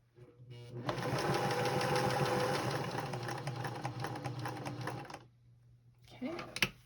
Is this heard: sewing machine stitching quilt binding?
yes